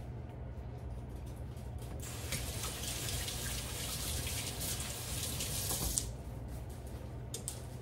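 Water runs steadily from a tap over hands at a sink, a continuous close splashing hiss that swells slightly in the middle and eases back toward the end, with no talking.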